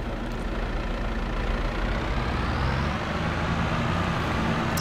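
Loud, steady drone of a semi truck engine running with no muffler in Farm Simulator 22, a constant heavy rumble that holds unbroken and close throughout, with no talk over it.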